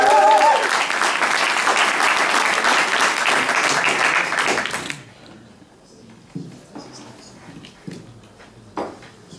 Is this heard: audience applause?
yes